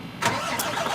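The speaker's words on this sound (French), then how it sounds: "je mets en route le camion" A heavy truck engine starts up: a brief cranking burst, then a quick catch, settling into a steady mid-pitched idle rumble, close and moderately loud.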